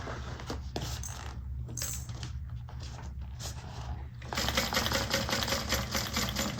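A sewing machine back stitches along the bottom seam of a handmade Alicia bag at a 1/4 inch seam allowance, a steady mechanical whir that runs near and unbroken, growing louder in the final seconds.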